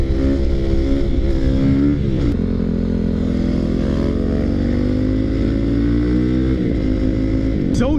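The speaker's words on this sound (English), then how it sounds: "Fourth gear wheelie. Power wheelie." A WR450 dirt bike engine revs hard in fourth gear during a power wheelie: a loud, close, steady high-rev drone whose pitch dips briefly around two seconds in and again near the end.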